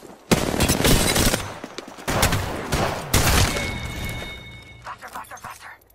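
Loud automatic gunfire in Apex Legends, coming in several long, dense bursts separated by short breaks, with a few sharper shots and some talk near the end.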